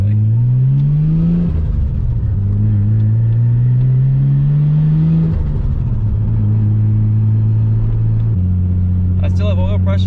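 A car is driven on a road after oil leak repairs, its engine note rising and falling through gear changes with a steady mid rumble, while someone talks over the drive.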